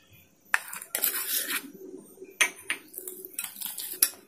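Banana pancake batter gets mixed in a bowl, with a series of sharp clinks and scraping strokes of a utensil against the bowl in an irregular rhythm, close and moderately loud.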